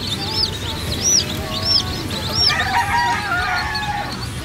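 Day-old chicks peep in high, repeated chirps near the microphone among poultry, while hens cluck and call under a steady background of farmyard noise.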